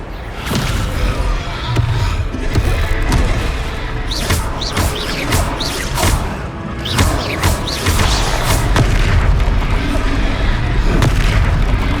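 A Descendo spell in Hogwarts Legacy slams a foe down with heavy booming impacts and crashes during a loud game fight, thuds repeating amid dense effects.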